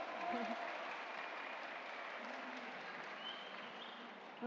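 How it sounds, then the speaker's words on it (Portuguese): Audience applause for a guest speaker being introduced at a Senac talk on agile coaching, a steady sustained clapping from a room of listeners at even level throughout. "Uma salva de palmas para o nosso convidado, João."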